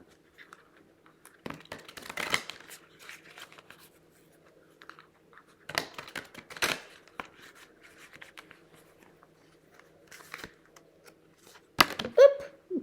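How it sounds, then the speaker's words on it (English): Cosmic Dreamscape oracle cards shuffled by hand in several soft bursts of riffling and sliding, close and quiet with pauses between, and a faint voice in places. "We give these a shuffle."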